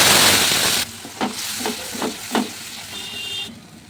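Spices hit hot oil in a pan with bay leaf, dried chilli and whole cumin, giving a loud sizzle burst that drops off, then a few distinct stirring scrapes over a quieter fry.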